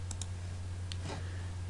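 Mouse clicks while working in Photoshop, a few sharp faint clicks at the start and another pair later, over a steady low electrical hum with no talking.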